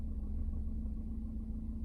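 A 2019 Maruti Ignis automatic pulls away in drive mode, its engine giving a steady, close, low rumble that holds even throughout without pauses.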